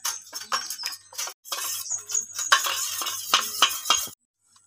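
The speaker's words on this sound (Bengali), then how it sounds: "আমি জল ঢেলে দিলে মিশ্রণটাকে গুলিয়ে নেব" A spoon stirs a cornflour and water mixture in a bowl, giving quick repeated scraping clinks in uneven bursts for about four seconds, close and fairly clear, before stopping.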